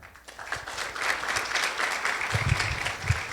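Audience applause at a scientific medical conference, a steady burst of many people clapping in a hall, rising quickly and continuing for a few seconds.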